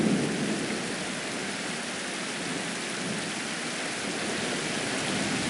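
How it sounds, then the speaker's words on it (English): Steady rain pours down in a thunderstorm in the game And Then There Were None, a dense, even hiss with low rumbling swells, continuous and close, with no voices over it. "That storm's closing in."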